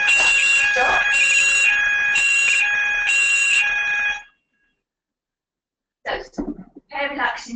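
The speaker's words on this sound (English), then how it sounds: "fire alarm, and a big over the drill, I'll just wait for that to stop." A building fire alarm goes off with loud, repeating pulsed electronic tones for several seconds, then stops abruptly, and speech follows after a short pause.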